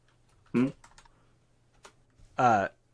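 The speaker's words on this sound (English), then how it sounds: "I was typing something." Faint, scattered clicks of typing on a computer keyboard, broken up by two short voiced sounds.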